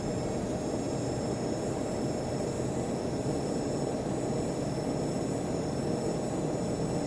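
Simulated jet airliner engines held at takeoff power for a runway roll on runway 27 left, a loud, steady broadband roar with a constant droning hum throughout and no one speaking.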